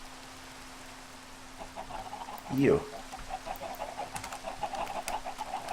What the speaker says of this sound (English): sand chickens.